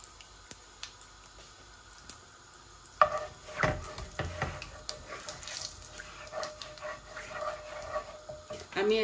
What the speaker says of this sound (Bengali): আমি ফোড়নে একটু জিরা দিচ্ছি, আর 2-3টা তেজপাতাও দিয়ে দিচ্ছি টুকরা।